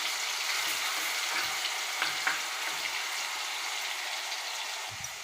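Onion paste fries in a pan, giving a continuous close crackling sizzle with occasional stirring scrapes.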